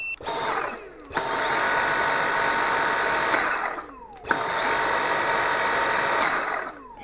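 A Dyson V6 cordless vacuum cleaner with a turbo brush fitted and the extension tube removed runs in two loud, steady bursts of motor whine and airflow, each a couple of seconds long, separated by brief pauses.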